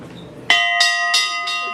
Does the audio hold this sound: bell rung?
yes